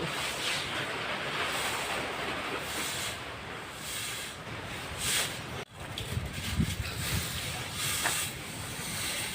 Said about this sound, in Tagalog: Grabe ang dala niyang mga ulan. Hangin.